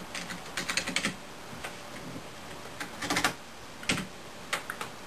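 Computer keyboard being typed on in quick irregular bursts of key clicks with short pauses between, fairly close and moderately quiet against a faint background hiss.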